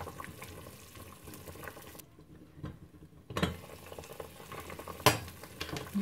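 Eggplant and vegetables, already fried, now cooking in a pot in a home kitchen: a steady bubbling sizzle with soft stirring, a brief drop to near silence, then utensil clinks against the pot, close and alone.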